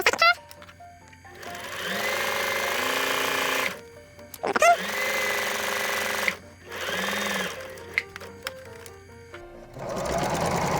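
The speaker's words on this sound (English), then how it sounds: "you are going to sew across the top of the apron, sewing over the neck straps" A sewing machine stitches across the top of an apron and over its neck straps in three long, steady runs. Brief pauses separate the runs, and the machine sounds close and clear.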